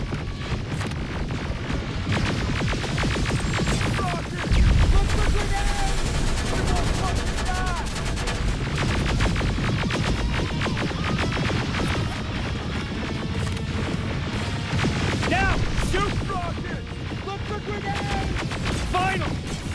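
Gunfire in the video game Terminator: Resistance, rapid machine-gun-like bursts and crashing hits under a throbbing hum, loud and dense, with voices mixed in.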